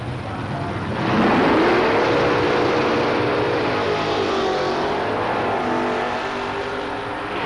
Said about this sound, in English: Stock Eliminator found Al Provost driving a station wagon against Kent Henley at the wheel of a 67 Camaro.